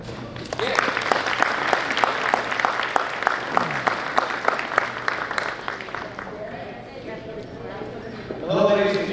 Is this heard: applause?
yes